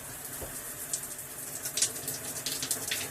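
Hot water runs steadily from a shower tap, a soft continuous hiss with small splashy bursts, fairly quiet and close, no voices.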